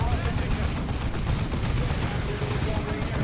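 Sustained lascannon blasts and gunfire in the Dawn of War 2 strategy game, a dense, continuous barrage of overlapping shots with no pause throughout, with a voice talking underneath.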